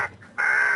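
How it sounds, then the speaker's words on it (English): An electronic bird-scaring device at an airport plays a recorded bird distress call, a harsh cawing squawk heard in two loud close bursts with a short gap. "Put that on, it gives off a distress call of the species of birds."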